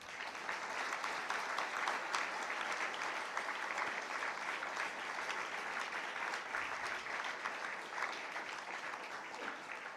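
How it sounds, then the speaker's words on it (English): Sustained audience applause fills a hall at the 32nd IPA publishers' congress in New Delhi, a dense, steady clatter of many hands holding at even loudness for the full stretch with no voices on top. "let's give them all a resounding applause"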